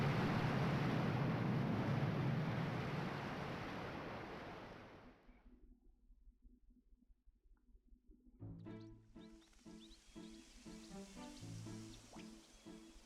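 Water drains away in Zelda: Skyward Sword HD as a steady, loud rushing wash that gradually fades out, after which soft, plinking musical tones take over.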